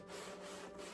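A paint squeegee drags across a painted canvas in one continuous, faint, rough scraping stroke lasting about a second, with no talk.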